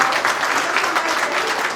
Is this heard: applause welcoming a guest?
yes